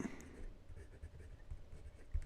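A fountain pen with a fine size 6 steel nib writes on paper, a faint close-up scratchy rustle of short strokes with small pen taps, quiet and alone.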